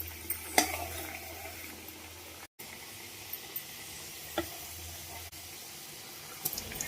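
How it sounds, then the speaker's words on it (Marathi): Milk dough pieces (kapnya) fry in hot oil, making a steady, soft bubbling hiss with a few light clicks and clatters of a spatula, and no talking. "आता ह्या कापण्या ह्या अशा उलटण्याच्या सहाय्याने आणि ह्या तेलात टाकायचं।"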